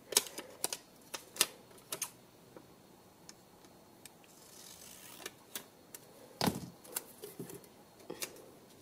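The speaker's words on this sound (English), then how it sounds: "Let's do a little trim sesh here." Paper being trimmed for a Classic Happy Planner spread gives quiet, irregular snips and crisp ticks, scattered clicks spaced across the stretch with soft rustling between them.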